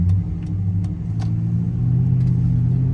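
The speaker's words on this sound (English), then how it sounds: "Engine sound good, sound like it's running good." A Ford Crown Victoria engine idles steadily through a Flowmaster exhaust after a tune-up with a cleaned throttle body and new spark plugs and coils, giving a deep, loud, even rumble close by.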